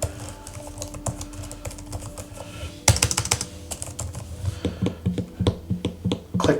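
Typing on a Microsoft Surface Pro 9 keyboard from 2022: a close run of crisp key clacks in an irregular rhythm, growing louder and more distinct partway through.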